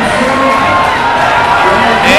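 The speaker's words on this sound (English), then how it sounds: "senior Teddy Chapman trying to hype up the St. Henry crowd" A high school basketball crowd at a St. Henry game roars with sustained cheering and shouting from a packed gym, a dense wash of voices that holds steady and swells slightly at the end.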